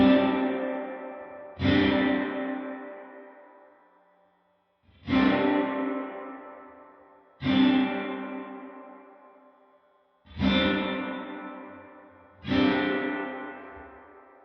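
A guitar through a Line 6 Helix Dynamic Hall reverb plays six single struck chords, each blooming and fading into a spacious hall tail, first with low diffusion and then with high diffusion.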